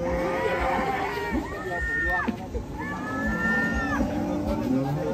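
A cow at a village livestock market in Indonesia lets out two drawn-out moos close by, heard over a busy background of people talking.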